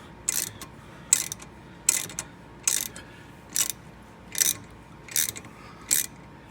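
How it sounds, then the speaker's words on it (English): A ratchet tightens a puller against a washer during timing cover work on a Dodge 5.9L engine, making eight sharp, close ratcheting bursts at a regular rhythm with quiet pauses between. "We'll keep tightening until that washer gets tight."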